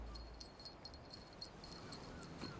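A dog whimpers on a beach in an animated children's show, giving soft, faint whines and small yips over a low background hum.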